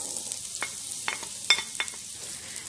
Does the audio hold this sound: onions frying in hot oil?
yes